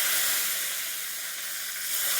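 Chopped tomato tipped into a hot pan with oil and panch phoron for a Bengali koi fish curry, giving a loud, steady broadband sizzle that holds for about two seconds with no talking.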